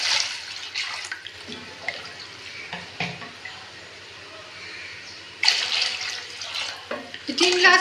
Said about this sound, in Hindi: तो 3 गिलास मैंने इसके अंदर पानी के ऐड कर दिए हैं।